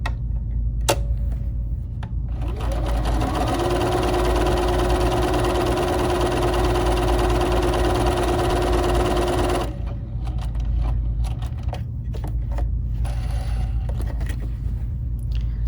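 A BERNINA 3 Series sewing machine runs steadily through decorative stitch 78 for about seven seconds, a loud, even motor whir with rapid needle ticking, starting and stopping cleanly with quiet handling noise around it.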